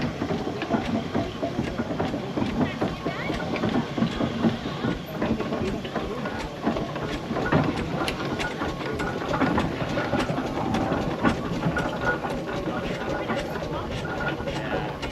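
A 1914 steam traction engine reversing at an outdoor steam festival, its low steady chugging and mechanical clatter running throughout under a busy background of crowd noise and talking voices.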